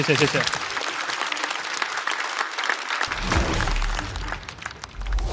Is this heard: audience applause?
yes